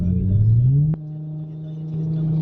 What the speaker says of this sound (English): the drone is pretty loud inside of the car